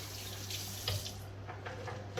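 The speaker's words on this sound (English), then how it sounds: "let me just rinse these off a little bit, my hands." Hands are rinsed under a running kitchen tap, a steady close water flow with brief splashes as the hands move through it. No one speaks.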